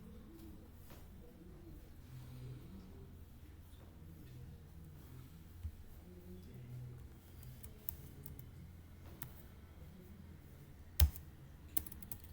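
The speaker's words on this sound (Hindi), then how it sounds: "प्लस दोनों दबा के ओ प्लस एंटर।" Light tapping on a computer keyboard during a coding session, a few soft scattered keystrokes followed by one firmer key press, faint and close against quiet room noise.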